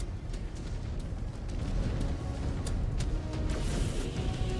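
A mech blows up in the MechWarrior 5: Clans battle, a heavy, continuous low rumble with scattered sharp cracks and pops that swells slightly louder midway and holds steady to the end.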